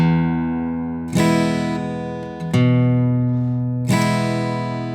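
Acoustic guitar strummed in three ringing chord hits, each decaying slowly, with hammer-on notes and an alternating bass note between strums, played alone and close.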